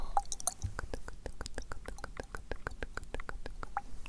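Water sloshed and poured with a small ASMR item, heard as quiet, close, rapid wet ticks and drips in a steady rhythm over four seconds, with a faint hiss behind and no talk.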